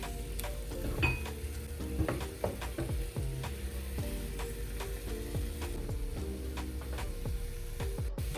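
Shrimp frying in a pan for a crab claw and shrimp fettuccine Alfredo, a steady close sizzle running throughout with frequent light clicks and scrapes of stirring.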